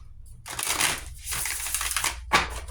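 Tarot cards being shuffled by hand, three bursts of quick riffling and flicking separated by short pauses, close and fairly loud with no talking.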